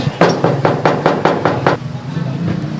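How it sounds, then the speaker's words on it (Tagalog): Someone knocks on a gate about eight times in a quick, even rhythm. The knocks are fairly loud and close, then stop, leaving a low background hum. "Kanina pa kami katok ng katok sa gate niya."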